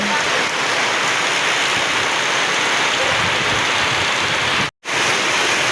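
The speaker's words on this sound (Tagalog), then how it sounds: "Bigla lang lumakas yung ulan mga kaibigan." Heavy rain pours down in a dense, loud, unbroken hiss that briefly cuts out near the end.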